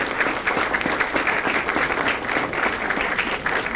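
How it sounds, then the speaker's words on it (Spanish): An audience at a university talk with apprentices gives a big round of applause, dense and continuous clapping that stays loud and even for a few seconds with no one speaking. "les pido un gran aplauso"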